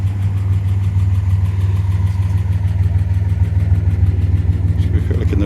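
A 1969 MG MGC Roadster in Primrose Yellow, with a fully rebuilt and balanced bottom end, idles steadily with a smooth, even low throb heard close up.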